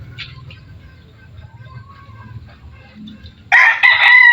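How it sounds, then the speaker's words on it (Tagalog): Small young chickens cluck softly in a low, busy murmur, then a rooster crows loudly and close by near the end, drowning out the flock. "Maliliit pa itong mga manok."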